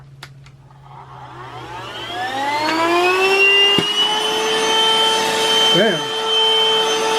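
A Hikeren cordless handheld vacuum cleaner runs its suction, its motor spinning up into a loud, rising whine that settles into a steady high drone close by, with a brief spoken exclamation partway through.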